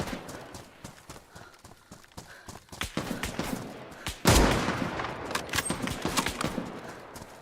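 An M16 rifle fires on semi-auto in the survival game DayZ: rapid clattering steps lead to one loud sharp shot with a long, echoing tail, followed by fainter crackling.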